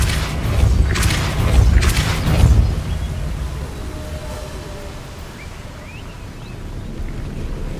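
A Depulso force spell cast in Hogwarts Legacy bursts out as a loud, rumbling whoosh with a couple of heavy booming surges in the first few seconds, then trails off into a low, windy ambient rumble.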